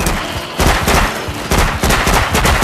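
Loud, dense volleys of gunfire from the After the Fall VR zombie shooter on Meta Quest 2 come in repeated bursts with brief gaps between them.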